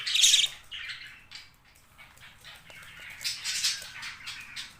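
Budgerigar chicks in a nest box give raspy, squawking chirps in short clustered bursts, one loud at the start and another group later, close by with quieter rustling between.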